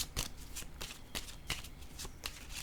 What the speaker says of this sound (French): Là, je vais déposer une carte.